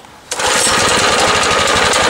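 A minibike's small single-cylinder engine catches after a pull start and runs loud and close, a fast continuous rattling putter after a brief quiet moment.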